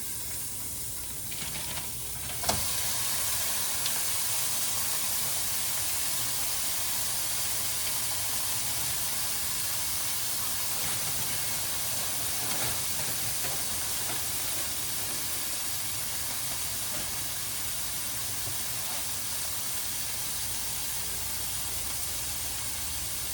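Beef browning in a pan over medium heat gives a continuous soft sizzle and hiss throughout, fairly quiet and steady with a few small pops, no talking.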